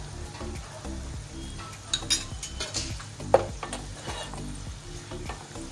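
A spoon stirs spice masala in a hot pan for a fish-roe dish, scraping and clinking steadily over a soft background sizzle, with no talking.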